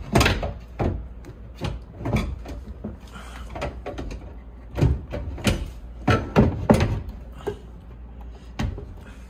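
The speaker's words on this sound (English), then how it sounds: "Something wrong with those drawers." Apartment drawers in a one-bedroom suite are opened and closed over and over, giving a series of sharp wooden thuds and sliding knocks, loud and close, in an irregular rhythm.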